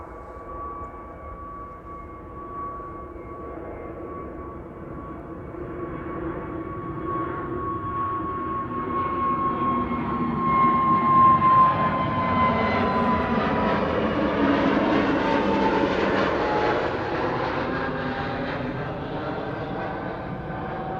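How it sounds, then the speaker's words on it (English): The second GE90 engine on a widebody jet spools up at Amsterdam Schiphol, a steady whine slowly rising into a broader roar over about twenty seconds, heard at a distance. "GE90, second GE90 engine is starting."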